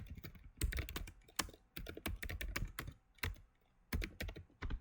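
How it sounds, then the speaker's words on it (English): Keys clatter on a computer keyboard in quick bursts of typing separated by short pauses, close and fairly quiet. "So I'll click and type"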